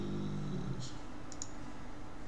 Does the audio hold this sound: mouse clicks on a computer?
yes